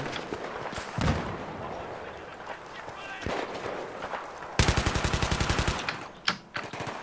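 Gunfire in the video game Battlefield 3, with scattered shots followed by a loud, rapid burst of automatic fire near the end, mixed with other game noise.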